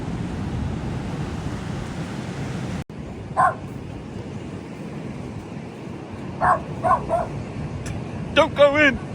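A dog on a Cornish beach gives several short barks, with a yip in between, over steady surf and wind, while a person speaks nearby.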